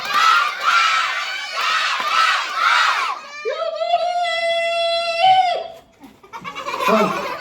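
A group of children at a vacation Bible school programme in Gobalapuram shout loudly in unison in several bursts. One long, drawn-out shrill cry is held in the middle, and the group shouting resumes at the end.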